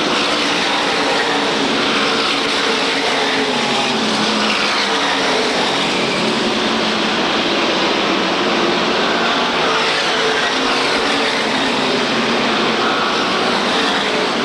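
SK Modified race cars lap the Waterford Speedbowl oval in 1993, their engines a steady, loud, continuous roar filling the whole stretch without letup.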